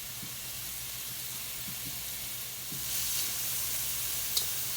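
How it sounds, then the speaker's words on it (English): Onions softening in a pot for homemade chili let out a steady, quiet sizzle and hiss that rises a little partway through, with a few soft clicks of a utensil and no talking. "So we're gonna let this saute until it's get a little soft."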